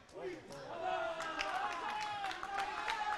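Crowd cheering and clapping in an indoor cricket arena during a UAE versus England men's tri-series match, a steady roar of voices and scattered claps that rises after the first half-second and holds loud throughout, with speech mixed in.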